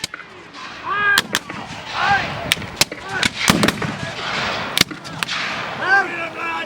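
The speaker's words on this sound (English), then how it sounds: "A volley by companies, one mass firing into the enemy, firing by file so it can ripple along the line." Muskets fire at a Civil War battle reenactment in sharp separate cracks and booms, some close and loud, others rippling down the line, mixed with shouts and crowd voices outdoors.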